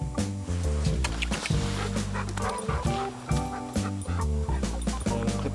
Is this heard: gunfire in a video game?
no